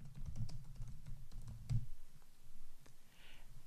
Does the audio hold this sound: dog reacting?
no